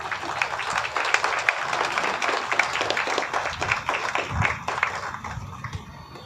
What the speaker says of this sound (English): Please give him a loud applause.